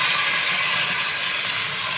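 Minced meat (keema) hitting a hot pan with whole garam masala, a loud steady sizzling hiss, close and continuous throughout.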